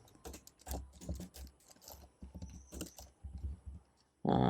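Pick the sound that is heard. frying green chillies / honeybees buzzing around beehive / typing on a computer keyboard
typing on a computer keyboard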